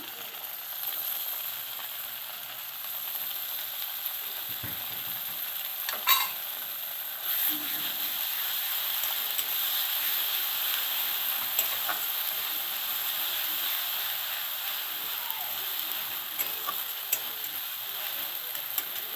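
Ginger paste in hot oil, with steady hissing frying noise throughout, a few light clicks and taps of a spoon in the pan, and no talk.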